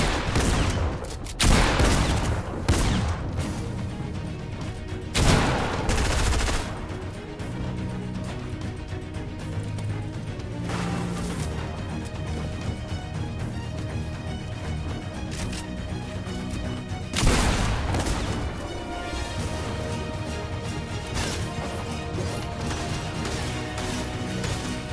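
Rapid bursts of gunfire from the video game Fortnite, with heavy impacts and clustered volleys over a dense, loud game soundtrack, strongest near the start and again around the middle.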